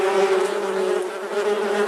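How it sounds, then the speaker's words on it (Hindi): A bee hums in flight, its beating wings giving a loud, close, continuous buzz that holds steady throughout with no other sounds. "जब एक मधुमक्खी उड़ती है तो एक आवाज आती है हमिंग की"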